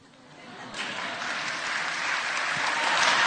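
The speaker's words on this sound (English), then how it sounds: "Please give Sri Sri a big round of applause." Applause for Sri Sri Ravi Shankar from a live Mindvalley University audience, swelling quickly from a few claps into a dense, steady roar of many hands that keeps growing louder, with no talk over it.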